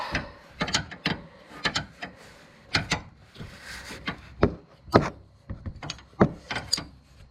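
Short clicking and ratcheting bursts from a wrench tightening the accumulator dryer fitting on a 2001 Ford F150, close and fairly quiet, in irregular clusters with brief pauses.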